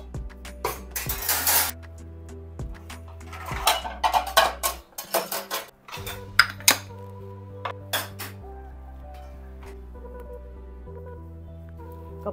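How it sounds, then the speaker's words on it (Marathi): Clean, dried dishes, pots and pans are put away quickly at home, with repeated sharp metallic clanks, clinks and rattles of steel utensils set down one after another at close range. "सो भांडी सगळी घासून झाली आहेत, ही जरा आम्ही आधीच घासून ठेवलेली, ती आता वाळली आहे, सो ती आधी पटापट लावून घेते"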